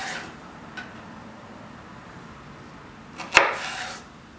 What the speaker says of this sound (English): First I'm going to cut it into 4ths.